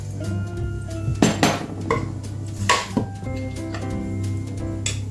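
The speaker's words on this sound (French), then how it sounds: "Donc dans un bol, je vais mettre tous mes ingrédients. Je vais commencer par l'avoine." Dry oats are tipped into a bowl for a homemade granola, bringing a few clinking knocks and rattles of bowl and utensil, fairly close and loud, with no talking.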